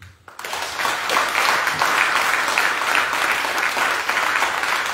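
A church congregation at a French Catholic Mass breaks into sustained applause acclaiming the Lord, the dense clapping starting abruptly after a brief pause and holding steady and full for several seconds.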